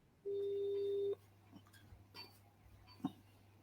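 A telephone ringback tone on an outgoing call to a pastor: one long, steady tone that stops abruptly, followed by a quiet, hissy line with a few faint clicks.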